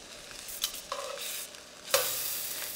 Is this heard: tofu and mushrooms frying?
yes